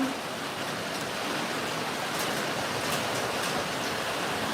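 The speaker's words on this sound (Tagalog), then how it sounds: "Ang OA ng ulan." Steady, dense rain pours down without a break, a full broadband wash of falling water at constant loudness.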